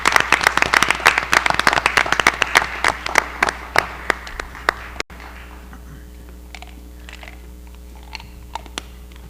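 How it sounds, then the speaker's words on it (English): A short burst of clapping from a small group at a board of education meeting, sharp and close, that thins out and stops halfway, leaving a quiet room with a few scattered sounds. "let's give a round of applause to all the candidates"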